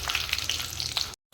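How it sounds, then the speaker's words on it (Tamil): Mustard seeds crackle and pop in hot oil in a pan with a steady sizzle, close and lively, then the sound cuts off abruptly near the end. "கடுகு பொரிஞ்சிருச்சு"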